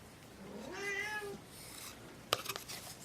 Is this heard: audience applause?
no